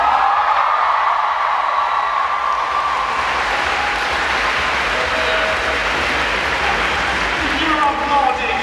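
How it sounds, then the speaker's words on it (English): A Comic Con panel audience at a Sherlock session bursts into loud, sustained applause and cheering, a dense roar of clapping with scattered whoops that continues for several seconds, while a voice talks faintly underneath. "You're applauding a date!"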